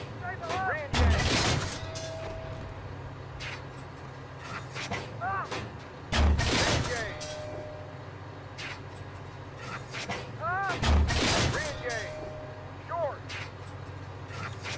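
A tank main gun fires in the simulation game Steel Beasts Pro on a tank range, with M60A3 and M1 Abrams tanks. Three heavy booming shots come roughly five seconds apart, each with a ringing tail, under intermittent talk and radio chatter.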